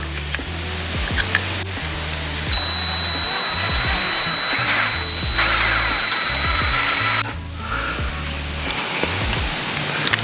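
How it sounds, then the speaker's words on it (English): A power drill grinds through a Ducati Scrambler shift pedal pin bolt in several bursts, whining loudly with brief pauses and changes in pitch, close by. "drilling this bolt out entirely and destroying it"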